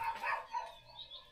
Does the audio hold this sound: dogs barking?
yes